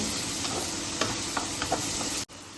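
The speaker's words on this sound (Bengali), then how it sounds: "এবার আবার একটু নাড়িয়ে নেব।" Food sizzles steadily in a frying pan for red sauce pasta with a little sugar added, a spatula stirring it with a few distinct scrapes before the sound drops out abruptly near the end.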